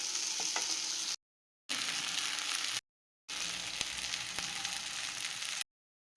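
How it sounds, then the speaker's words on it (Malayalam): Onion masala mixture for a Kerala fish curry sautéing and sizzling in a pan, with steady frying hiss and occasional stirring scrapes, broken by short silent gaps. "എല്ലാം കൂടെ നന്നായിട്ട് ഇളക്കി മിക്സാക്കി നന്നായിട്ട് വഴണ്ട് വരണം"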